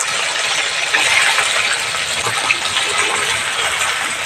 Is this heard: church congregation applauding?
no